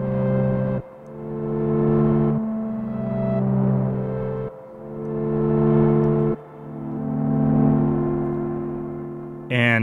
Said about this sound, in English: With all the heads lifted, you can just hear the reverb.